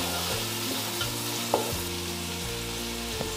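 Onions and green chilli sauté in ghee for green peas pulao, with a steady sizzle and a spatula stirring and scraping the pan in an irregular rhythm. It sounds close, and no one speaks.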